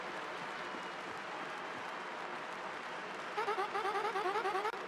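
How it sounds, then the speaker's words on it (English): A video game crowd cheers for a fighter's entrance at an arena in Paper Mario: The Thousand-Year Door, a constant wash of applause and noise joined by a rhythmic chant toward the end. "The crowd is going wild for Gonzalez, our third champion."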